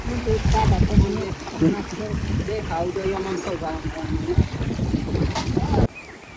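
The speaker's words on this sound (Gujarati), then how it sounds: "અત્યારે તો વાવાઝોડું બધું કરી ગયું છે પવન પણ ફૂટ આવી ગયો" Gusty storm wind roars and buffets the microphone with a low rumble while a person talks over it.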